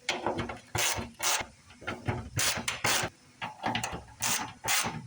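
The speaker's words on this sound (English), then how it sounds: "we're going to use our ratchet, and we're going to hand snug these" A hand ratchet snugs the bolts on the fuel sending unit of a Ford F250/F350 dump truck, clicking in short bursts with brief pauses between strokes, close and clear with no talking.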